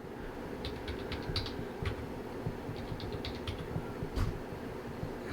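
Light, quick keystrokes tap on a Mac keyboard while a new password is entered, a steady run of soft close clicks over a constant low background hum.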